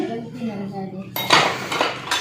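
Kitchen dishes, pots and cutlery clink and clatter in a home setting, a few close rattling knocks that start after a quiet moment and continue in bursts, with faint talk at the start.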